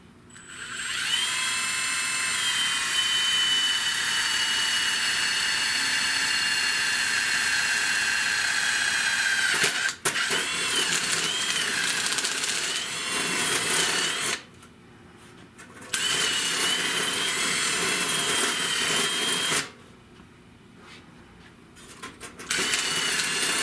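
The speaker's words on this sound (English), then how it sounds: "I'm going to drill that baby out." A power drill whines at high speed while boring out a rear window stud on a 1970 Buick Wildcat, running in long sustained bursts with brief pauses between them.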